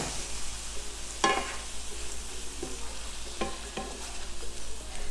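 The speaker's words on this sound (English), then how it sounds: "So you want these tomatoes to have a nice kind of light boil going to them." Tomatoes simmer at a light boil in a pan for a tomato basil chicken and ziti dish, giving a steady soft bubbling hiss with a few brief clinks of stirring near the start and middle.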